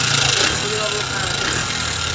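A Suzuki Gixxer SF 150 motorcycle with a faulty, abnormal engine sound runs close by, giving a loud, steady, rough drone that holds without a break.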